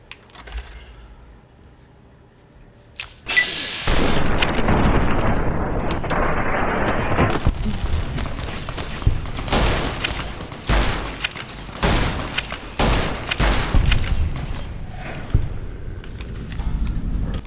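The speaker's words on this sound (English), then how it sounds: "I'm not gonna shoot Rexy, come on." Gunfire in the Ave! True to Caesar video game as members of a gang are fought: after a quiet start, dense bursts of loud shots and booms crowd together, repeating in rapid volleys with sharp cracks standing out.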